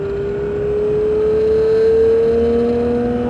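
Porsche 911 GT3 engine on the Circuit de Mireval racetrack: a loud, steady, close droning note that climbs slowly in pitch as the car gently accelerates, with no talking.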